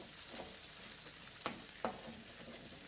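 Food fries steadily in a pan over a high flame during Telugu home cooking, a continuous close sizzle with a couple of brief scraping stirs partway through.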